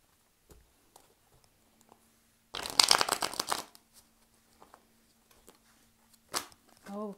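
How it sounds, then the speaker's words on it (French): Thoth tarot deck being shuffled by hand, a short dense burst of riffling card flutter after a few soft taps and handling clicks, close and quiet, followed by a brief voice. "Je vais juste mélanger les cartes."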